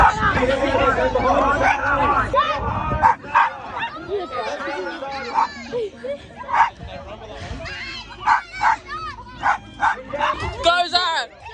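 Dogs bark and yip repeatedly during a dog race at an international eventing horse show in Sydney, sharp close barks rising over a crowd's hubbub and cheering, with people talking throughout.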